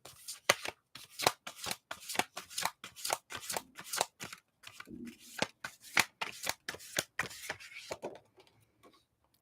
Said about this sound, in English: I saw that whenever I was shuffling and splitting the cards